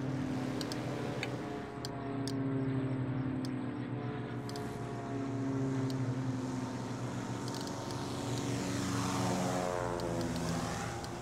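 Airplanes landing in the airport-management video game Airport CEO produce a steady, droning engine roar with layered tonal hum, continuous and fairly loud throughout, with a rising whine near the end.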